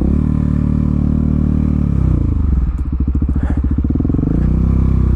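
A KTM supermoto motorcycle cruises along a dirt trail with a close, steady engine hum. Its tone drops and throbs in the middle as the throttle eases, and faint rattles come from the ride.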